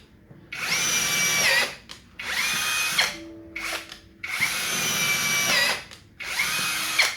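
A Fuyaon cordless drill runs at high speed in four loud whining bursts, each lasting one to two seconds with brief pauses between, the motor spinning up and down close by.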